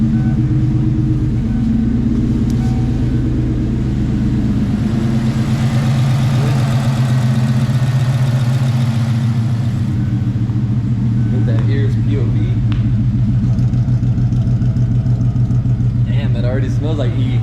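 A Ford Coyote swap engine fires up on E85 fuel for the first time and settles into a loud, steady, rumbling idle close by, with people talking over it.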